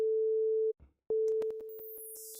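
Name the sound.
pure sine wave A4 on Rob Papen Blue-III synth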